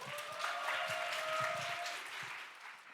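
An audience claps at a church speech contest, a dense burst of applause that swells and then tapers off over about three seconds, with a faint tone ringing underneath.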